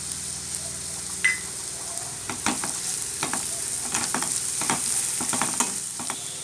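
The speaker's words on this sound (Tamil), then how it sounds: "இப்போ வெங்காயம்லாம் நல்லா வதங்கிடுச்சு" Onions sauté in a pan with coriander leaves and asafoetida powder for a spicy Tamil chutney, giving a steady close sizzle broken by scraping stirs and small crackles, with no talking.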